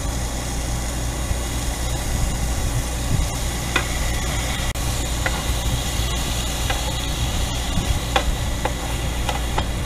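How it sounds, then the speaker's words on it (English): Mushrooms sauteing on low heat in olive oil with garlic powder and fresh garlic in an RV kitchen, giving a steady close sizzle with faint crackles and a constant low hum underneath. "so it's just mushroom sauteing"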